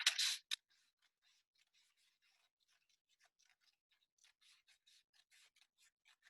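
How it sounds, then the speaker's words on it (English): Scissors snip through paper close up, opening with a couple of crisp loud cuts, then a quiet run of small rapid snips and rustles that picks up again toward the end. "I'm just going to use my scissors and I'm going to cut those last couple of lines out."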